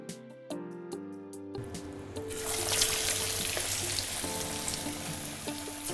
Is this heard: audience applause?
no